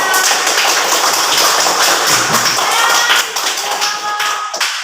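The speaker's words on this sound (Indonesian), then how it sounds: "Ya, tepuk tangan untuk kita semuanya." Steady, dense clapping from a group in a fifth-grade classroom fills the whole stretch, loud and continuous with a slight dip toward the end.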